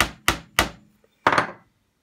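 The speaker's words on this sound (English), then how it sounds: "Make sure you have the right end of the nail in when you're hammering" Three quick hammer blows drive a nail in, then a fourth heavier strike follows after a pause; each knock is sharp, close and wooden, with nothing else around.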